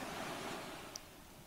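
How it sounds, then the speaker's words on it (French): Ocean waves wash softly in the background, a faint, steady surf hiss with no distinct breaks and no voices. "par le mouvement des vagues"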